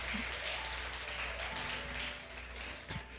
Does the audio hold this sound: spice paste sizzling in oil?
no